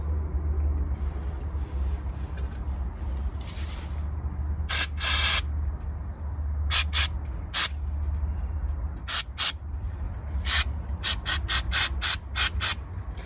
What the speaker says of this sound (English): I'm going to shoot some brake cleaner into these holes, and also in all the gas intakes